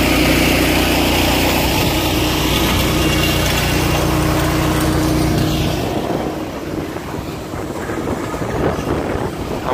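A grain auger runs while loading a Freightliner truck: a loud, steady mechanical drone with wind buffeting the microphone, easing somewhat after about six seconds.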